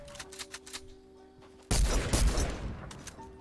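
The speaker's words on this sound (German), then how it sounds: "Warte, ich schieß mal." A new weapon in Fortnite fires rapid shots, a few sharp cracks at first and then a sustained loud burst of gunfire at close range, over quiet game background with no talk.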